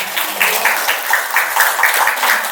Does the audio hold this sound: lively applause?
yes